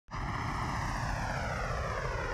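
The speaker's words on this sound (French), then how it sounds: "Décollage du verbe décoller, action de quitter le sol pour commencer un vol." A fixed-wing airplane taking off, a loud steady roar of engine noise that starts abruptly and holds, with slowly descending tonal bands as it passes.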